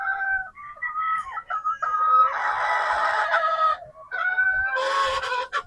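Rooster crowing repeatedly at close range, long strained calls broken by short pauses, with a few faint clucks between and no other sound around them.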